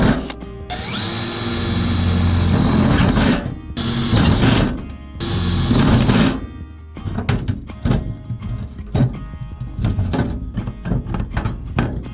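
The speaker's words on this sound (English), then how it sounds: "right in there, I'm gonna drill a hole" A power drill whirs loudly and steadily for several seconds, drilling a hole for a vent in a barndominium, stops briefly, runs again, then gives way to scattered knocks and handling clatter.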